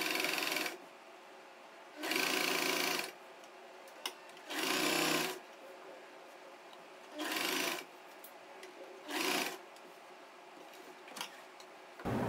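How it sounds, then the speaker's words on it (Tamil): A sewing machine stitches bias binding onto a churidar neckline in five loud, close bursts of rapid needle chatter. Quiet pauses separate each run. "இது கால் இன்ச் டிஸ்டன்ஸில் நம்ம வந்து ஸ்டிச் பண்ணிக்கலாம்."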